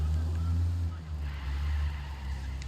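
Car engine in the video game Ghost Recon Wildlands, a steady low rumble running continuously close by, with faint game ambience and no talk.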